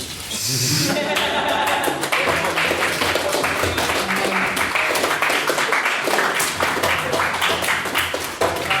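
A debating-society audience in a chamber bursts into loud, sustained applause, dense clapping filling the whole stretch with a few laughs mixed in.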